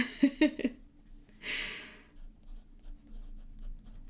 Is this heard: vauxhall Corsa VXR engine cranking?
no